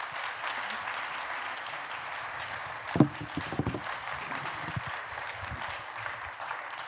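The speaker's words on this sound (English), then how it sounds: "Let's give our panelists a warm round of applause." An audience at a business events panel discussion claps for the panelists, a fairly quiet, distant ripple of applause with a few sharper claps standing out partway through.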